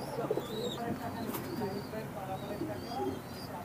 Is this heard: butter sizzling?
no